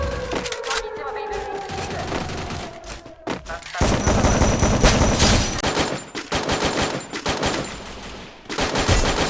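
Loud bursts of rapid automatic gunfire from the video game Free Fire, repeated in several volleys, with a voice speaking briefly early on.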